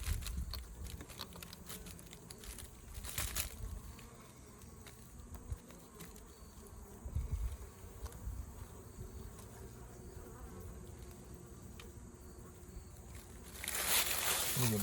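A close swarm of honey bees drones around honey-laden comb during a harvest, with a steady dense buzz throughout and occasional louder passes near the end, while people talk in the background.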